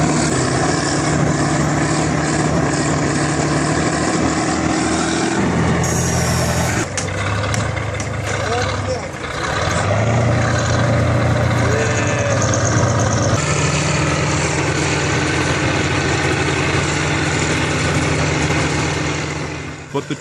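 A tractor's engine roars loudly and continuously while it strains to pull a stuck K701 loader free, with the pitch shifting as the load changes.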